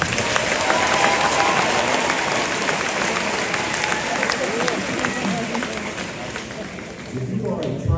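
A large audience at a US high school graduation applauds honor-level students being recognized, a dense, sustained roar of clapping that fills the hall and thins slightly near the end.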